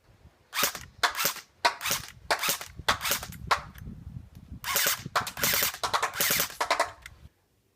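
A Galaxy MP5K airsoft gun fires in semi-automatic and full-automatic modes, giving close, sharp bursts and single snapping shots in quick repeated clusters with brief pauses between them.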